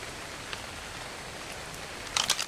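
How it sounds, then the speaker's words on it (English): Rain falling in Ark: Survival Evolved, a soft steady hiss of drops with a few brighter spatters near the end, faint and continuous with no talk. "And it's raining."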